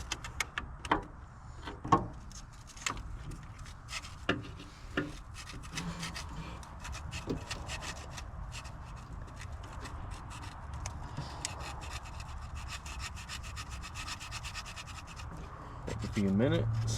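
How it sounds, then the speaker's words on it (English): Sandpaper rubs over small parts from an old mail truck in steady, rhythmic scratching strokes, close and fairly quiet, with a low background hum throughout. "sand them down"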